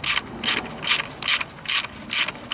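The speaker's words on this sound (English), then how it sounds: "when you tighten these nylocks up, you want to make sure you don't over tighten them" A hand ratchet tightens nylock nuts on a radiator fan shroud of a DeLorean, six loud, even bursts of clicking spaced about every 0.4 seconds, close up and with no voices.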